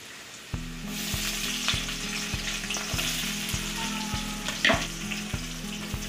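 Garlic and onion frying in oil for chicken maharani give a bright, continuous sizzle up close, with a steady low hum beneath and occasional utensil clinks.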